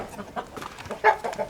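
Young hens clucking on a small farm, a few short soft calls scattered through a brief, quiet stretch with no talking.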